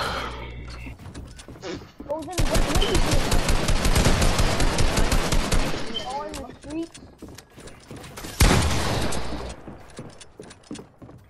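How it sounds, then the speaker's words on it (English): Video-game gunfire as a player shoots at their own wall: rapid loud automatic bursts lasting several seconds, then a second heavy burst, with voices talking in between. "Why are you shooting your own wall?"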